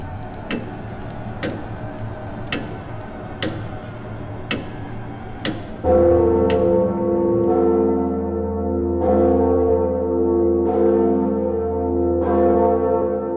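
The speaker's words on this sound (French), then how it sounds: "les cloches de Petrov sonnent midi à 11 heures" Church bells of Petrov in Brno ring out loud and resonant, their overlapping tones sustaining and swelling after several sharp, evenly spaced clock-like ticks.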